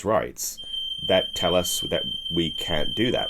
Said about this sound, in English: It's a fire alarm of some description.